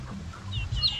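Chickens cluck softly on a small mini farm, a few short close clucks over a low background rumble.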